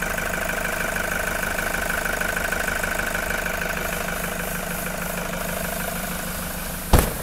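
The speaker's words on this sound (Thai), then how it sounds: "ฟังเสียงเครื่องยนต์ได้เลยนะคะ" A Toyota Commuter 3.0 diesel van, a 2013 model, idles steadily with an even mid-range hum, heard alone, and a sharp knock or thump comes near the end.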